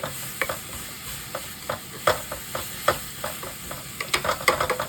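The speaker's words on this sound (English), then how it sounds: "the onion smell is coming through the onions. That is the sign that the onion is cooking well." Onions cook in a pan for a Japanese-style hamburger steak, a steady close sizzle with regular scraping stirs roughly every half second, busier near the end, and no talking.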